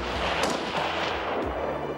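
Rifle fire at an army shooting range, with several loud reports cracking out in irregular succession over a steady outdoor rumble.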